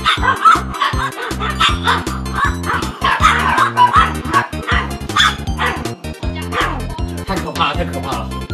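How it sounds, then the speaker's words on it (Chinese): Two dogs bark, yip and whimper at each other in a fight during an indoor livestream, with close, loud, overlapping barks running continuously and people's voices mixed in. "于是两只狗狗开始旁若无人的吵架，肉眼可见的身体发抖"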